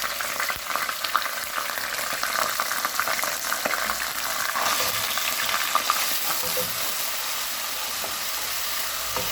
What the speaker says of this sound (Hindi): एक से 2 मिनट तक पेस्ट को फ्राई करेंगे।